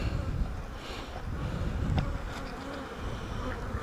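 Honey bees buzz steadily inside an open hive being inspected, a close, continuous drone with some wind rumble against the microphone.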